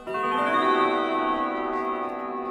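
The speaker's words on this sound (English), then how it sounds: "here's what I mean by the strike side sounding out of tune" A single strike on the chime rods of a 1980s Howard Miller triple-chime grandfather clock with Winchester chimes, its strike side out of tune. It rings loud and close with a dense cluster of clashing overtones and decays slowly over a couple of seconds.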